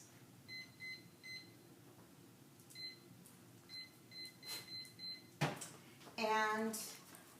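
An oven timer is set with a series of short electronic beeps in a kitchen, soft and regular, followed by a louder clack and a brief rustling burst.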